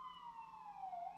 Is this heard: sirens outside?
yes